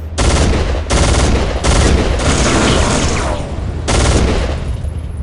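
Heavy gunfire in the Soldier of Fortune 2 video game, loud sustained bursts of automatic shooting broken by short pauses, close and dominant with no voices.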